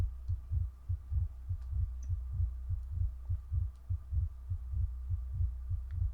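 A steady double-thump heartbeat repeats about twice a second throughout, low and throbbing over a faint hum, with no talking.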